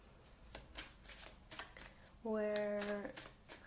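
Rapid papery flicks of tarot cards being shuffled, several quick bursts, close by, followed by a short steady harmonic tone.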